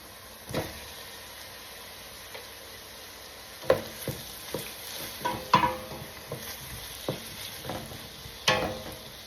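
Tomatoes fry in a pan for corned beef guisantes, a low continuous sizzle broken by several sharp stirring scrapes and utensil knocks.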